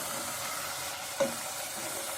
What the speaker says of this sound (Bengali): আবার একটু নাড়ছি।